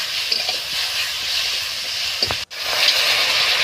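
Ginger and tomato paste sizzles steadily in a hot pan and is stirred, with a continuous hiss and a few soft scraping knocks near the end.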